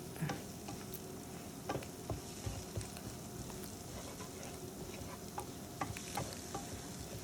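Fried brinjal is stirred with masala in a pan for a pickle, a faint, low sizzle broken by scattered light ticks and scrapes of the spatula.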